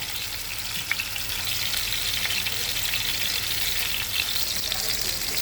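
Pieces of karimeen fish frying in hot oil in a pan give off a steady, dense sizzle and crackle that runs unbroken from start to finish, close and fairly loud, with no talk over it.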